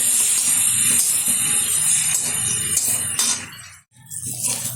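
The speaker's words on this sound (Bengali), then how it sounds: "কুটে রাখা একটা ফুলকপি আর কিছুটা পরিমাণে চিংড়ি মাছ একসাথে ঢেলে দিলাম। এবার নাড়াচাড়া করে নিচ্ছি।" Cauliflower pieces and shrimp fry in hot oil while being stirred, a loud steady hiss with clinks running almost the whole time and a brief break near the end.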